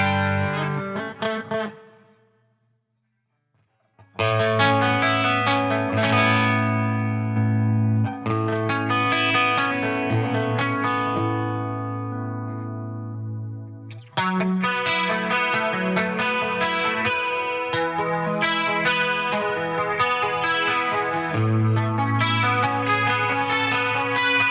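Electric guitar runs through a Line 6 Helix JCM800 amp model with compression, playing loud driven chords and riffs that cut out briefly to near silence and then resume with sustained, saturated tone.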